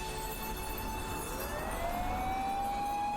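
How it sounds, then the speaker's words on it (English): A car siren wails steadily in the video game Mamiya, a sustained rising electronic tone held over a constant background rumble, fairly loud and continuous with no talking. "The car blared its siren as it sped directly toward the heart of the city."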